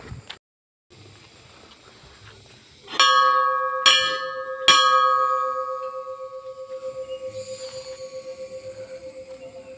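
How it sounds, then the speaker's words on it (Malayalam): Three strikes of a bell on a hilltop pilgrimage path about 3000 feet up, each a sharp clang leaving a long ringing, slowly pulsing tone that fades out in the open air. "ഇവിടെ ഒരു പ്രത്യേകതയുണ്ട്, ഒരു മണിയടിക്കാൻ ഒരു അവസരമുണ്ട്."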